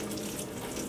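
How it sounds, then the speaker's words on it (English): Faucet running steadily into a sink during a handwashing procedure, with the water turned on and adjusted for hot temperature; a close, continuous broadband splash and hiss with no talking. "use paper towel to turn on the faucet, and then I adjust the hot to get the right temperature"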